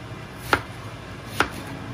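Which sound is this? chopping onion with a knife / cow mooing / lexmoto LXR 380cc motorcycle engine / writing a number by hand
chopping onion with a knife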